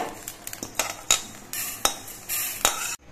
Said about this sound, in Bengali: কালো জিরেটা ভাজা হয়ে গেছে, এটা একটা বাটির মধ্যে আমি নামিয়ে নিচ্ছি